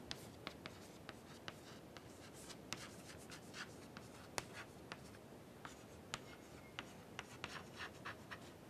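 A pen scratches out an equation on paper, faint close strokes and taps arriving in an irregular rhythm against quiet room hiss.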